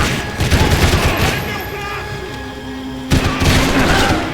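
Rapid bursts of Max Payne 3 video game gunfire with heavy booming shots, loud and close, pausing briefly before another volley erupts.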